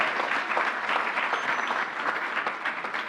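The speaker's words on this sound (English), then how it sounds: "Let's give him another round of applause." Audience applause at a governor's COVID-19 and vaccine briefing, a steady wash of many hands clapping at moderate loudness for about three seconds, with no talking over it.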